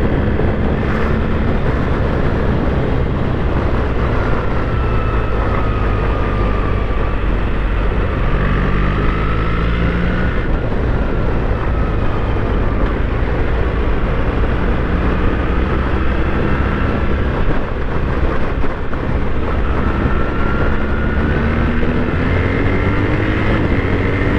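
A 2024 BMW R 1300 GS motorcycle engine running on the road, a continuous loud rumble with wind roar and rising and falling engine tones as the bike rides along, without talk.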